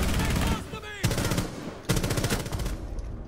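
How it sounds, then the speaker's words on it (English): Rapid automatic gunfire in the Rainbow Six Siege video game, two sharp bursts of rattling shots about a second apart, loud and close, with other game noise around them. "I shot her once"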